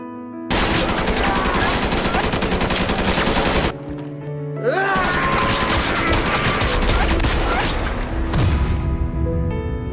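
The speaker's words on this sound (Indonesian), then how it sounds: "seketika ratusan tembakan menghujam ke arah dirinya" Dense, rapid gunfire rattles continuously in a heavy volley, pausing briefly before another sustained burst of shots erupts, loud and close.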